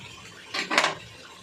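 Lid set down on a cooking pot with two quick clattering metallic knocks, close by and clear.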